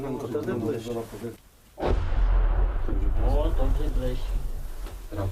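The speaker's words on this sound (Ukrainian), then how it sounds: "навіть у підземеллі чуємо, як на позиціях розв'язується бій" A heavy explosion-like boom from artillery fire during a battle in Ukraine, heard from an underground shelter, cuts in and rumbles on, with people talking before and after.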